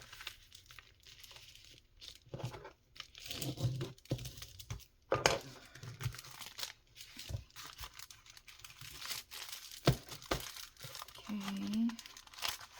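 Junk mail paper is folded and creased for a journal, giving irregular crinkling and rustling handling sounds at close range, with occasional speech between the paper noises.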